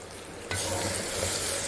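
Drumstick and tomato rasam being stirred in a pan on the stove. A soft sizzling hiss swells into a steady, close frying and stirring noise that runs to the end, with no voices.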